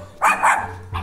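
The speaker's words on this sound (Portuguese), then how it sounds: "Esses cachorros gostam de latir" Dogs barking in a residential neighbourhood in Terra Boa, Paraná, two quick close barks followed by a third shorter one, loud against a quiet background.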